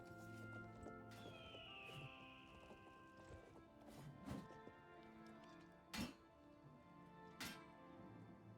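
Horse hooves clopping up stairs in the Oblivion Remastered video game, a series of distinct hard thunks spaced irregularly, with a faint whinny and soft background music.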